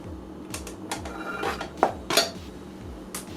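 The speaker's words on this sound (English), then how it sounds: "Coarsely chop those and put them in my slow cooker." Knife chopping carrots, celery and onion on a board for beer chicken noodle soup: a series of irregular, fairly close knocks and clatters with a low hum beneath, no talking.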